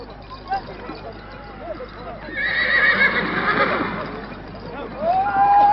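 Horses at a Fantasia horse-riding display whinny loudly over drumming hoofbeats, with a voice talking and faint crowd noise underneath.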